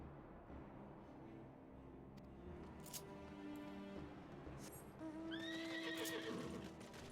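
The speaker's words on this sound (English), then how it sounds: "Pardon me while I ride a horse to your house." Horse from the game Final Fantasy XIV whinnying twice, a long neigh mid-clip and a louder, higher one near the end, over steady clip-clop hoofbeats and game ambience.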